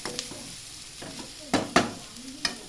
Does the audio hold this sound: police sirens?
no